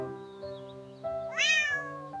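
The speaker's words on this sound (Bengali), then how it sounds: "এটা বিড়াল। বিড়াল বলে মিয়াও মিয়াও মিয়াও।" Cartoon cat meowing in a children's animal-sounds lesson: a sustained, tonal mew that breaks into a brighter, rising meow midway, close and moderately loud with no talking over it.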